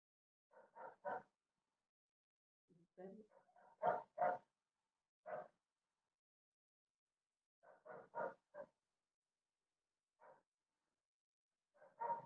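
A dog barks in the background in short bursts of one to three yips, repeated irregularly over several seconds with gaps of silence, fairly faint and with no talking over it.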